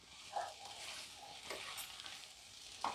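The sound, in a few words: potatoes being mashed and fried with spices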